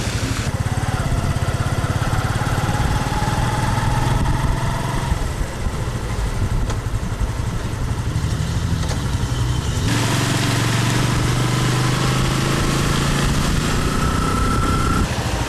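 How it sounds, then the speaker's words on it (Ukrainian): A Bajaj Boxer 125 motorcycle engine drones steadily up close throughout, its pitch rising and falling as it rides off-road, with wind rushing over it. "Кросовий мотоцикл. Поїдемо на офроуд."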